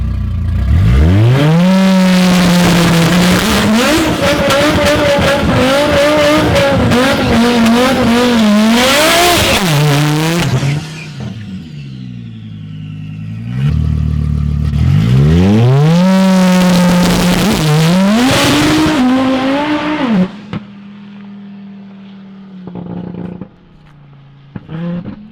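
A 1000+ hp Audi RS3 launches down a drag strip on a 60-foot test pass, its engine roaring loud and close through two hard revving surges with rising pitch, then easing down to a rough idle.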